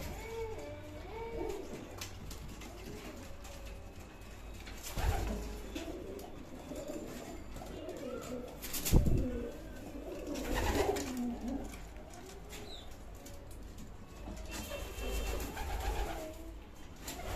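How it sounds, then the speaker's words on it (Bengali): Giribaj pigeons coo softly inside their loft, with low, rolling calls overlapping in a steady murmur and a few brief knocks and rustles nearby. "দেখুন সব পায়রাগুলো এখন ঢুকে রয়েছে"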